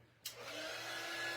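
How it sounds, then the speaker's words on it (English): A dryer switches on with a sudden rush and then blows steadily on a cutout, a close, even airy whoosh with a faint motor hum underneath. "let me hit it with the dryer"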